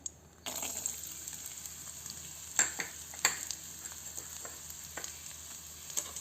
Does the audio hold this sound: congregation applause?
no